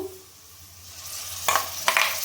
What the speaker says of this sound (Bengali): মিক্সিতে 2টো পেঁয়াজ পেস্ট করে রেখে দিয়েছিলাম, সেটাও আমি কড়াইতে দিয়ে দেবো।